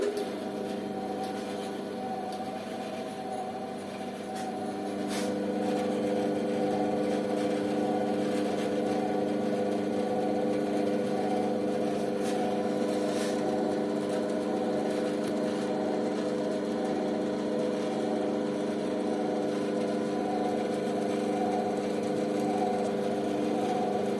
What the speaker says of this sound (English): I'm going to run it without any material, without any wood on it, just to hear the sound of the machine